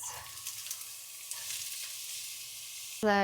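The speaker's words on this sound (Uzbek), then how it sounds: "Va piyozni solamiz." Onion dropped into two or three spoonfuls of hot oil for qozon kabob crackles into a bright, hissing sizzle, close and steady for a few seconds before a brief tonal sound cuts in at the end.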